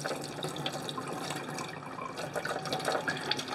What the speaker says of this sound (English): Now we're just going to run water through where the paint comes up, and you can see it coming out the nozzle until it runs clear.